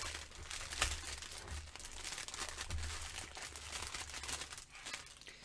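Plastic packaging crinkles and crackles as a diamond painting kit is unboxed, close to the microphone, in irregular bursts of crisp rustling and crunching with no voices.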